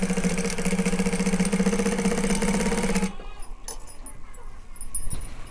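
A sewing machine stitching a blouse runs as a steady, loud mechanical whir for about three seconds, then stops, leaving quiet rustling and small clicks.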